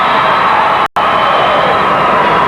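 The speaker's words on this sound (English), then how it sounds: "you can hear the Hoxie crowd now" Hometown Hoxie fans roar at a 1999 Kansas state wrestling championship as their 135-pound wrestler wins, a steady wash of crowd cheering with one brief dropout midway.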